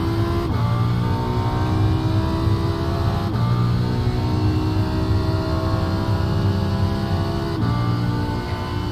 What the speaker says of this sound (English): the Audi is really quite stable and sounds wonderful with that V10